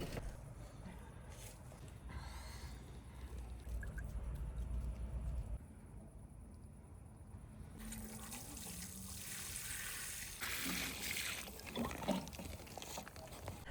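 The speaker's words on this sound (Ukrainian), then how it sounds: "ущільняємо та проливаємо водою з додаванням кормовину" Water trickles and pours onto soil around a newly planted fir tree, a quiet uneven splashing and gurgling that stops and restarts over several seconds.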